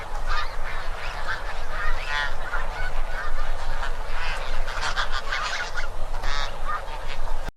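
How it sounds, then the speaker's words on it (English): Snow geese in a family group feeding together, giving a continuous run of guttural honking calls, many birds overlapping at close range with no pauses. "Family groups use a series of guttural notes to communicate with each other while feeding"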